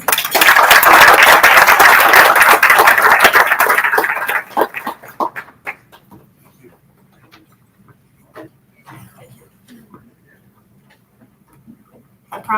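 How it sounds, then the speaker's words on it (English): Audience applause at an evening education-freedom event, starting as a loud, dense wash of clapping, then thinning out and fading after about four seconds into scattered claps and faint taps in a quiet room. "Let us give them all a round of applause."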